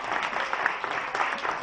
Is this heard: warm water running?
no